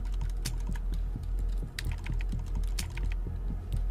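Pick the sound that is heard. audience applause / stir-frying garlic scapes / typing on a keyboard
typing on a keyboard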